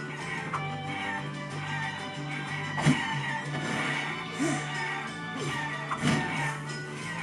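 Roosters in the video game Guacamelee cluck and squawk in short bursts over a layer of game music and ambience, with a few thumping hits in between.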